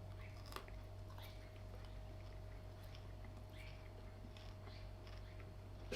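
Cowshed beef jerky being chewed close up, steady wet crunching and biting bites over a low constant hum, with no talking.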